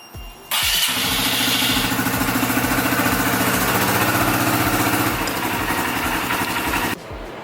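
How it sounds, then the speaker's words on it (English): A Honda dirt bike engine starts and settles into a loud, steady idle with a rapid, even pulsing thump up close, then cuts off. "we're just gonna go ahead and let this idle for about a minute"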